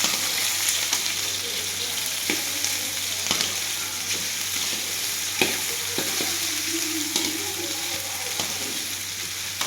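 Fish balls sizzling and crackling steadily in hot cooking oil in a pan, with occasional stirring clinks and scrapes, close and continuous, no talk.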